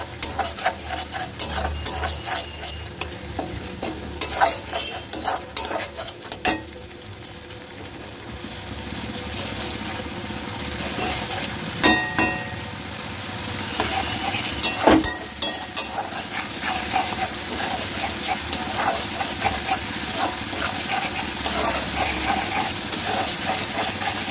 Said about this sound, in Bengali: এবার একটু নেড়ে নেবো, ভালো করে এবার কষিয়ে নেবো।